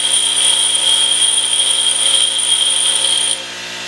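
A boring bar insert is ground on a grinder, giving a loud, steady, high-pitched whine with a constant hiss that drops away abruptly near the end, with no talk.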